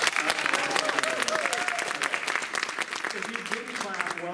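A concert audience at a benefit show claps steadily for a performer, a dense continuous wash of applause with voices talking over it throughout.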